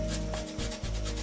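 A finger rubbing white flecks of dried, damp-affected glue off model stonework, a soft continuous scrubbing friction close by with a short pause midway, no talk.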